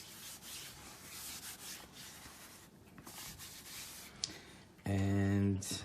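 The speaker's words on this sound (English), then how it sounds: "This is my own microfiber cloth. Just clean this." A microfiber cloth rubs across the clear front shell of a Quest 3 VR headset, giving a soft, continuous close-up scrubbing hiss with brief pauses.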